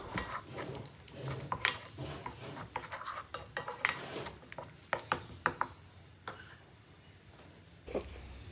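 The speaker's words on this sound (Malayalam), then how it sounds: "ഇനി ഇവിടെ രണ്ട് മുട്ട ഇട്ടിട്ട് മിക്സ് ചെയ്ത് കൊടുക്കാം" Two eggs being mixed in a bowl for mutta puttu, heard as a close run of irregular metal clinks and scrapes of a utensil against the bowl, with brief pauses.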